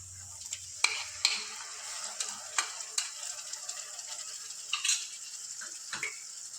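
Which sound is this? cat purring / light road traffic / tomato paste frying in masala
tomato paste frying in masala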